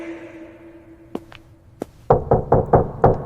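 Knuckles knock on a house door, first a few scattered taps and then a quick run of five firm knocks close by, over a low background hum.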